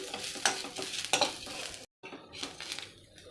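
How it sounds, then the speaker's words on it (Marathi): Grated coconut, garlic and ginger roasting in a pan, with a dry sizzle and repeated scraping stirs of a spoon against the metal, cut by a brief silent gap partway through. "खोबऱ्याचा किस काढून ठेवलेला लसूण आणि अद्रक हे थोडंसं भाजून घेऊयात आपण"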